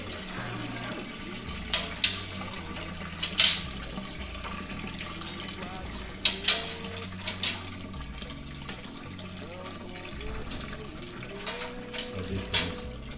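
Wort drains from a lifted grain basket after an hour of mashing during homebrewing of a Session IPA, a steady trickling and splashing of liquid running continuously underneath with a few faint clunks.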